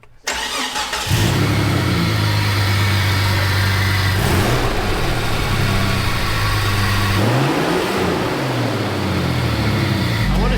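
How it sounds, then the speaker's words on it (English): A car engine starts up and settles into a rumbling idle, then revs in a few rising and falling sweeps, loud and close, with no talking. "I feel like it's a little snappier when I rev it"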